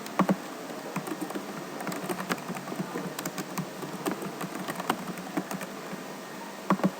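Rapid typing on a computer keyboard to enter a password, with a steady run of close, crisp key taps and a few louder strikes at the start and end.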